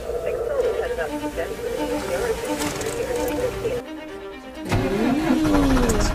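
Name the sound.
PistenBully snow vehicle engine in Antarctica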